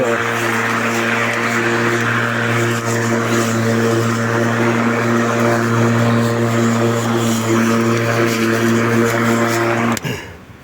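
Loud, steady drone of an Einhell lawn mower's small engine running close by, with a constant low hum, then it suddenly cuts out near the end.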